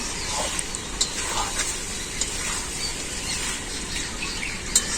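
Mutton (goat meat) curry sautéing and being stirred in a pan, producing a dense, steady sizzle with periodic scraping strokes of a spatula, close and loud throughout with no talk.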